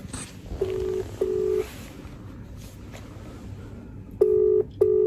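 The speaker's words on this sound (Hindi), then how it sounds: "अभी अभी अभी मेरा फोन जा रहा है" Steady electronic phone tones sound in long pulses, two early and two later, over a low background hum, like an outgoing call ringing.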